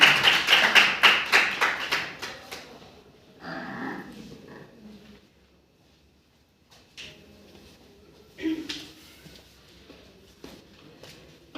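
An audience at a university speaking club event claps in a loud opening burst of rapid applause that fades quickly, followed by scattered quieter sounds and a short silence.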